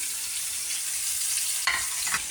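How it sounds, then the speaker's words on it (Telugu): Tomato fries in a pan with a steady, close hiss, and a brief stirring scrape comes near the end. "టమాటో బాగా ఫ్రై చేసి తర్వాత ఇది పేస్ట్ చేస్తుంది"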